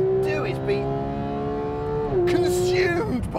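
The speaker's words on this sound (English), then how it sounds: "Can you hear what's going on behind me? That engine, it's all about that engine." A sports car engine roars steadily in the foreground, its tone holding level and then dipping and climbing again as it keeps pulling hard, with a PDK transmission mentioned among cars like the Mercedes-Benz C63 AMG Black Series, Porsche GT3 and Aston Martin V12 Vantage.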